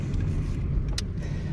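A Toyota Yaris engine misfiring and running rich on petrol idles with a low, uneven rumble, close and steady for a brief moment without any talking.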